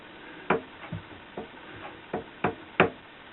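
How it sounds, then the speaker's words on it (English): A very sharp chisel pares back a mahogany workpiece in about seven crisp, separate knocks and cuts at an uneven pace. The sound is close and quiet, with no talking. "Very sharp chisel."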